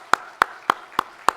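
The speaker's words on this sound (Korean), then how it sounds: "우리 이런 분들에게 박수 한번 할까요?" A church congregation claps during a sermon, five evenly spaced, sharp unison claps ringing out in a rhythmic beat.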